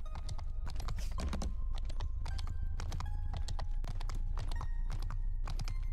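Steady clip-clop of horse hooves in Mount and Blade Bannerlord, a brisk uneven patter of sharp knocks continuing throughout with no pauses, close and prominent.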